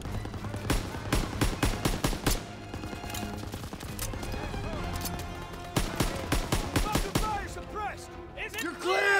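Machine gun fire in the World War II shooter Call of Duty WWII during an assault on an MG pillbox, with loud rapid bursts of repeated shots and several pauses, plus some scattered other gunfire.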